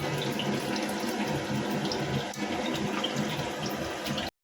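Water poured into a pot while cooking chicken biryani, a steady running, splashing stream close by, continuous and fairly loud for about four seconds before stopping abruptly.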